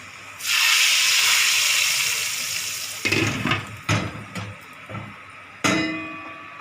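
A loud hiss and sizzle bursts up as a hot oil tempering is poured into cooked lentils, fading gradually, followed by a few sharp metallic clinks and taps.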